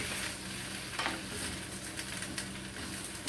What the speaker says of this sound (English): We're frying up some cabbage.